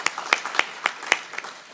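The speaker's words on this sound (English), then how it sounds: "let's give a round of applause for Emily" An audience claps at a public talk on civil discourse: a short run of crisp, evenly spaced claps, close and fairly loud, with no voices.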